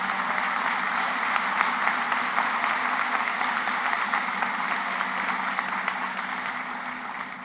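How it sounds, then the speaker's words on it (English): Steady applause from a university commencement audience honoring Jim and Bonnie Amos, many hands clapping evenly in a large hall for several seconds, no talking. "Would you please give them a round of applause again?"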